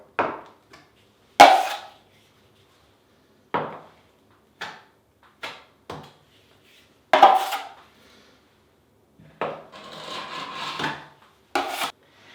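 Scraping strokes of a knife dragged across joint compound over KERDI-BAND on bathtub drywall, heard as short, separated rasping passes with silent gaps between them, close and fairly quiet, with no talking.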